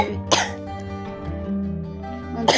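Two sharp coughs, one early and one at the very end, over a steady tonal background hum.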